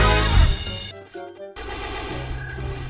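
Loud, dense bursts of automatic gunfire from the Free Fire shooter game fill the moment, briefly thinning before another sustained volley resumes, with no talk over it.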